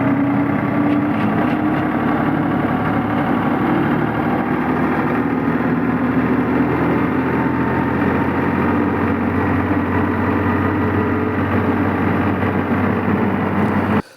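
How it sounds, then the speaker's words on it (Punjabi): A tractor engine idles continuously at close range, a steady, low rumbling drone with no speech, cutting off abruptly at the very end. "ਆਪਾਂ ਟਰੈਕਟਰ ਵੀਡੀਓ ਵਿੱਚ ਚੱਲਦਾ ਦੇਖ ਸਕਦੇ ਹਾਂ ਜੀ"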